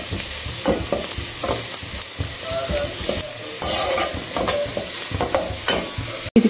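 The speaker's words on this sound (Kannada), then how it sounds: "ಆನಿಯನ್ನ ಚೆನ್ನಾಗಿ ಬ್ರೌನ್, ಸ್ವಲ್ಪ ಜಾಸ್ತಿ ಬ್ರೌನ್ ಬೇಡ, ಸ್ವಲ್ಪ ಬ್ರೌನ್ ಆಗೋವರೆಗೂ ಮಿಕ್ಸ್ ಮಾಡ್ಕೊಳ್ಳೋಣ" Sliced onions sizzle steadily in a hot pan for chicken egg fried rice while a spoon stirs and scrapes them, the frying loud and close with no talk.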